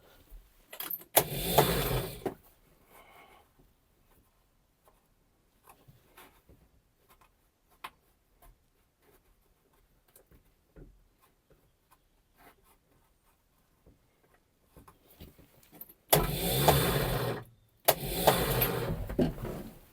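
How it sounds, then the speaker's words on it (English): A car left sitting in the cold cranks without firing: two short bursts of starter grinding near the start, a long quiet stretch with faint clicks and handling noises, then two longer cranking attempts toward the end, close and loud. "I did not plan on this car not actually firing up."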